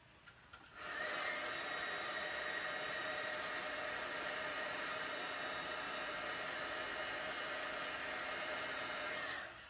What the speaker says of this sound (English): when you hit it with the heat tool, it shrinks it up like this